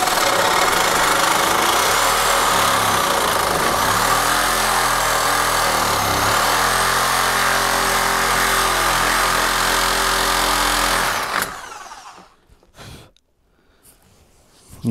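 A power saw with Milwaukee blades cuts through the battery tray of a 2001 EZGO TXT 36-volt electric golf cart, grinding loud and steady for about eleven seconds before stopping, followed by faint clatter and near silence.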